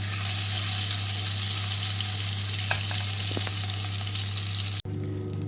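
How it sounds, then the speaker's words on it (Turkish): Butter stirred into melted sugar in a pan for caramel, giving a steady loud bubbling hiss with a few faint scrapes, ending abruptly near the end. "Şekerim eridi. Şimdi tereyağımı ekledim. Karıştırıyorum."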